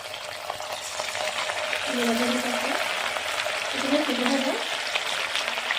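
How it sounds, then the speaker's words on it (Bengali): Cauliflower pakoras fry in hot oil with a steady, close bubbling sizzle that holds at an even level. A faint voice-like tone rises briefly twice in the background. "তেলের মধ্যে দিয়ে দিতেছিল ফুলকপি"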